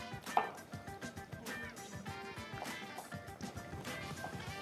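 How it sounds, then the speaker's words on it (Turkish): A knife chops tomatoes into small pieces for melhem soup, giving a quick series of sharp, uneven taps on a board in a kitchen. "şöyle hemen domateslerimizi de ufak ufak doğrayalım"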